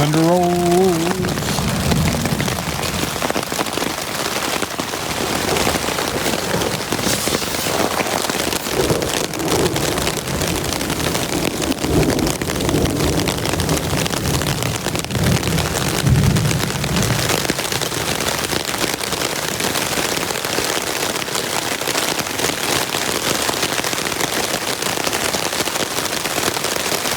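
Heavy rain pounding steadily on a tent during a wet elk-hunting camp trip, a dense continuous hiss with brief low thunder-like rumbles near the start.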